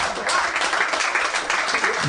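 An audience applauding, a steady wash of clapping that holds for a couple of seconds at moderate loudness, with a little talk mixed in.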